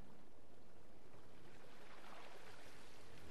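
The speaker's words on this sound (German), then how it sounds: "Hier müssen wir an die Ruder." A Viking longboat being rowed in the video game Assassin's Creed Valhalla gives a faint, steady wash of water and wind noise, continuous and without distinct strokes.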